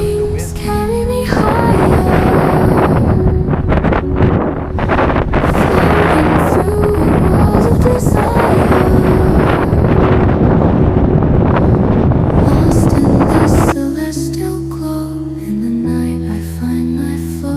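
Wind buffets the microphone outdoors in a heavy, continuous rush, with a faint tonal sound running beneath it and a calmer stretch near the end.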